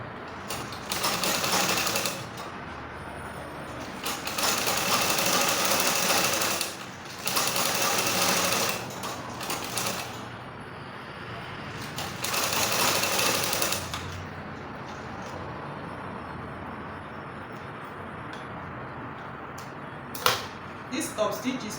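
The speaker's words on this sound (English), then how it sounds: "So right now I'm going to top stitch it." A sewing machine top-stitching a trouser pocket runs in several loud, close bursts of rapid mechanical stitching separated by quieter pauses with handling noise.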